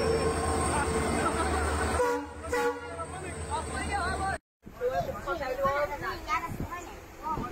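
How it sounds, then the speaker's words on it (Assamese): A train pulls in with a deep rolling rumble and a blast of its horn, heard close and fairly loud, with people talking nearby. "ফাইনেলি আমাৰ ট্ৰেইনখন ৰওঁতে আহি গ'ল"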